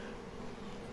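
Honey bees swarming into a baited hive, a dense, steady buzzing hum that fills the whole moment, close and even, with no voices over it.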